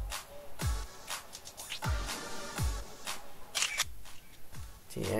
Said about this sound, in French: On va prendre une photo avec.